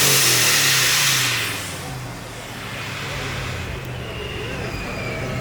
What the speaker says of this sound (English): I hear some supercharger blow off